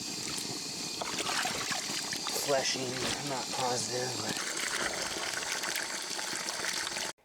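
A garden hose sprays water steadily over a salted bear hide, a continuous hissing rush as someone talks over it, then cutting off abruptly at the end.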